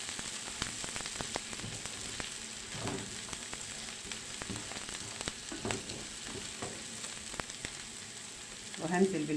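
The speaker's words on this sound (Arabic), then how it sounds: "البصل اهو دبل معايا، هحط كمان عليه الثوم، اشوح فيه شويه" Onion and garlic sauté in a hot pan for chicken, a steady crackling sizzle with scattered pops and occasional stirring scrapes, close and continuous throughout.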